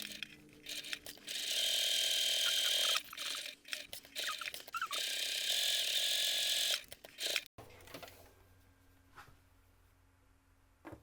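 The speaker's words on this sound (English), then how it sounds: "And then we'll top stitch all the way around." A sewing machine top-stitches around a fabric hobo bag in several runs of rapid mechanical whirring, with short stops between them before the machine falls quiet.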